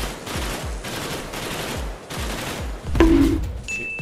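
Rapid bursts of gunfire from enemies in the horror FPS Sophonce, a string of repeated shots across the clip followed by a louder crack and a ringing, sustained tone near the end.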